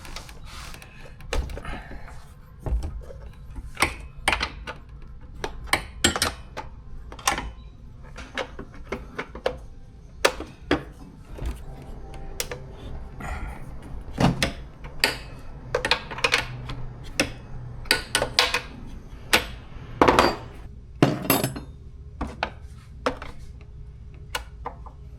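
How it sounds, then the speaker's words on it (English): A wrench works on bolts of a Stihl TS420 concrete saw, giving irregular metallic clicks, taps and clanks scattered over a quiet background, close and sharp, with no speech. "With the right size wrench."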